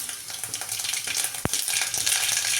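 Mustard seeds spluttering and crackling in hot oil in a pan while cooking a Tamil potato poriyal, a dense continuous sizzle with rapid pops and one sharp louder crack, heard close with no talking.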